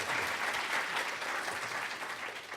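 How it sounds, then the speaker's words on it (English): Dense, steady applause fills a primary election debate hall as the audience greets a candidate being introduced, a continuous wash of many hands clapping with no speech over it. "You can clap."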